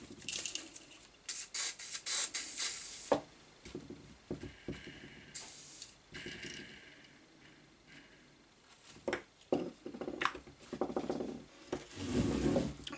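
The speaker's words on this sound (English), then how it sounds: "Just done one squirt of WD-40 and this is spinning virtually like it's brand new." A squirt of WD-40 sprays onto the motor of a salvaged miter saw, short hissing bursts mixed with small mechanical clicks and handling noises at close range.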